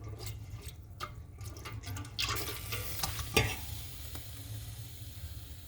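A spoon stirs a liquid in a pot on the stove while okra is being canned, giving soft scraping swirls and light sloshing over a low burner hum. It is quiet and close, and nobody speaks.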